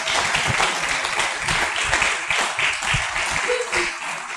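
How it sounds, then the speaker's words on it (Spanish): A church congregation applauds loudly during a sermon, a steady dense clapping that fills the space for several seconds with a faint voice briefly audible underneath. "Den un fuerte aplauso al Señor."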